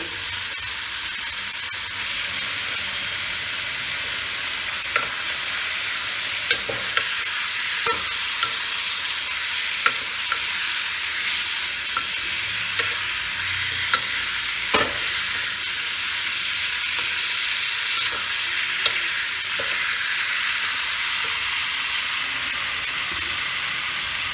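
Chicken pieces fry in spiced oil for a raw mango chicken curry, a steady close sizzle and hiss broken by scattered scraping clicks of a spoon stirring the pan, with no voices.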